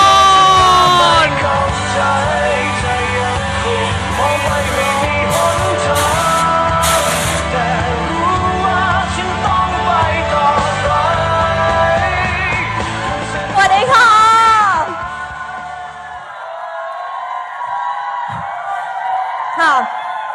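An audience at a Thai talk show cheers, whoops and claps loudly to welcome a guest over upbeat stage music, with the crowd noise and music thinning out toward the end.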